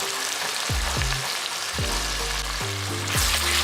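Meat curry with curd just added, stirred in a hot pot, giving a constant loud sizzle broken by several thudding scrapes of the spoon against the pot at irregular intervals.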